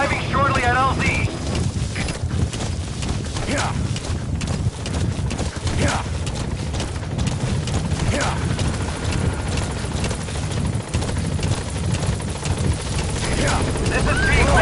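Extraction helicopter arriving at a base in the video game Metal Gear, a steady loud rotor drone running throughout with radio voices talking over it.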